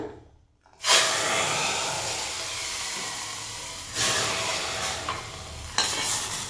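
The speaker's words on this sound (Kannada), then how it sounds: "ಇವಾಗ ಈ ಒಗ್ಗರಣೆನ ಸಾಂಬಾರಿಗೆ ಹಾಕೊಳ್ಳೋಣ" A sudden loud sizzle erupts as hot tempering hits liquid, settling into a sustained crackling hiss with two more brief surges later.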